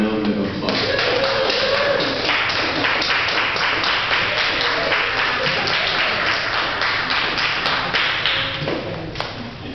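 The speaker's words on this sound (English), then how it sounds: "Let's give them a round of applause." Loud, steady applause from an audience at a community play reunion during a Vancouver festival, broad dense clapping filling the whole stretch and tapering slightly at the end, with voices faintly mixed in.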